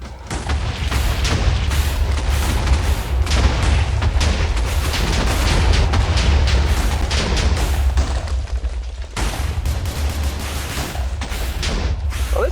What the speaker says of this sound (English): we're going to throw some grenades at him